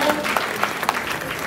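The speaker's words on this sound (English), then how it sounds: "applause." A short burst of audience applause at a reception honoring Comfort Emelia Afful, dense steady clapping from a crowd with a few sharper claps standing out.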